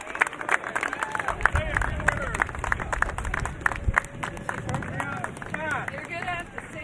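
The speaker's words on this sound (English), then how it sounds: "Round of applause for the truck drivers who did a great job." Outdoor crowd clapping and cheering for truck drivers at the arrival of the US Capitol Christmas Tree in Washington, DC, steady applause lasting several seconds with scattered voices.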